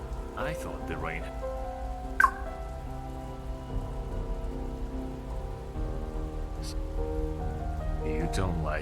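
Steady rain falls throughout a scene in the One Eleven video game, a constant hiss beneath layered music tones, with occasional brief sharper game sounds.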